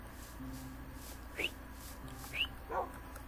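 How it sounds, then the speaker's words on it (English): A dog in Minecraft gives three short, high whimpers spaced across a few seconds, thin and clear over a low steady game background hum. "Come on, dog."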